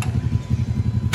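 A 2019 Honda Brio Satya engine runs at a steady idle, a low, even mechanical hum heard close and alone, with no talking over it.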